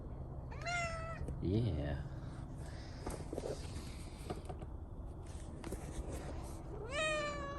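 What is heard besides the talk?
cat meowing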